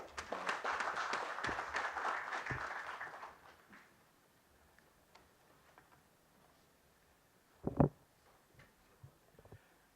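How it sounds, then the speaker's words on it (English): Audience applause at the India CSR Leadership Summit 2018 in New Delhi, a burst of clapping for about three seconds that fades out, followed by quiet room noise and a brief thump. "Big round of applause, please"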